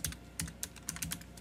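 Keys on a computer keyboard tap out a Wi-Fi password, about eight quick, close, crisp clicks at an uneven typing pace, with no talking.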